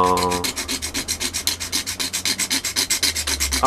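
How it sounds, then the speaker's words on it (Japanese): A Tamiya thin-blade craft saw cuts a plastic part of an Aoshima 1/24 FD3S RX-7 model kit, giving a close, steady run of about twenty rhythmic rasping strokes with no talk. "今使ってるのはタミヤの薄葉クラフトノコですね"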